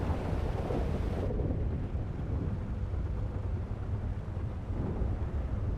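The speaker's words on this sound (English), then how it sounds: "this storm has just not let up the last several hours anyways, if not a couple days" A thunderstorm in the video game GTA V, heard as a loud, continuous low rumble and hiss of wind and rain that stays steady throughout, with no voices.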